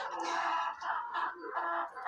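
Chickens, bantam roosters and hens clucking beneath a barn on a village farm, several birds calling in overlapping bursts, close and moderately loud.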